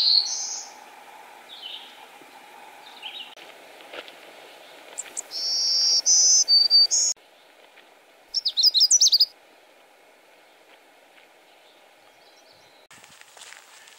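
A family of great crested flycatchers calls in the North Maine Woods near Silver Lake, giving sharp, bright chirps and bursts, some loud and rapid, over a steady background of insect buzzing.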